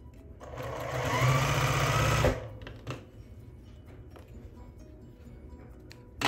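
A sewing machine stitches fabric wedges for a barn star quilt block in one fast whirring burst of about two seconds, close and clear, followed by soft handling clicks and rustles.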